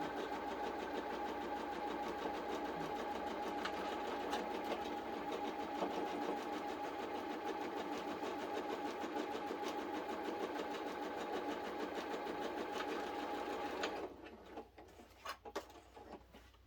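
A sewing machine stitches a quilt block in one steady, close, whirring run of about fourteen seconds, then stops, leaving a few soft clicks and rustles of fabric.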